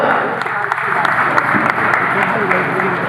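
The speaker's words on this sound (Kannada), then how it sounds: "ಜೋರಾದ ಚಪ್ಪಾಳೆಯೊಂದಿಗೆ ಸ್ವಾಗತ ಸುಸ್ವಾಗತ" Sustained applause from an audience welcoming a guest at a Rotary club tenth-anniversary event, a dense steady clatter of hands filling the room throughout.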